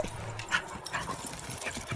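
A pit bull moves about indoors, with soft scrabbling and light tapping, a few faint whimpery sounds and brief noises close by.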